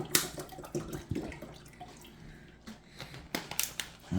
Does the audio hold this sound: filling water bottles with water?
yes